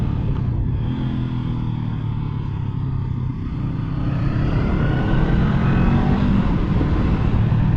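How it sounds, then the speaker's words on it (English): Honda CB500 Hornet motorcycle cruising at highway speed, a steady close engine drone mixed with heavy wind rush, constant and loud throughout with only a brief dip partway through. "see how CB500 will handle the highway speed"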